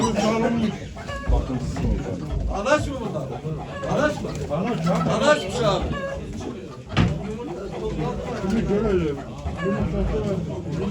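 Chickens cluck and squawk at a busy poultry auction in Ankara, a dense clamor of hens and roosters mixed with people talking loudly nearby throughout.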